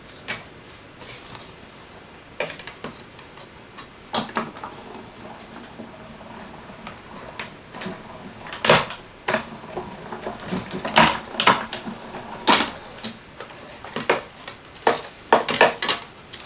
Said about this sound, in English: I'm just going to run through my Stampin' Cut and Dot and Emboss machine